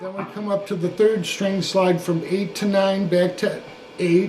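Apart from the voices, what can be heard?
No distinct noise like a dog, phone or traffic.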